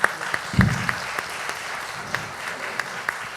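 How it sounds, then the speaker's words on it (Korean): A small audience at a youth policy forum in Busan claps sparsely, with a handful of sharp individual claps spaced out over a low hum of room noise. "박수 한번"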